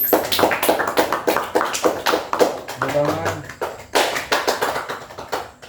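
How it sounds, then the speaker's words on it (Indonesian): A small group in an Indonesian group counselling session claps for themselves, with a steady stream of rapid, fairly close hand claps and voices talking over the clapping. "kita beri tepuk tangan buat diri kita sendiri"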